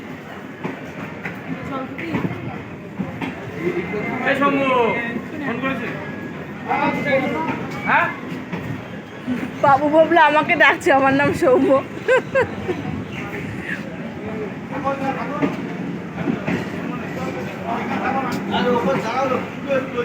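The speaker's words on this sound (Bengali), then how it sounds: "আমাদের ট্রেন ঢুকেও গেছে" A train pulls into a station platform, its low rumble and rattle running steadily beneath near, continuous family conversation.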